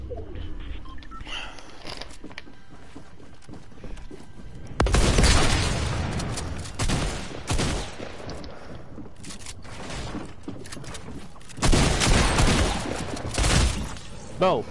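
Pump shotgun shots in a video game, a few sharp heavy blasts spread out, with dense bursts of shooting and clatter around them and a quieter stretch between. Loud and near, with occasional talk underneath.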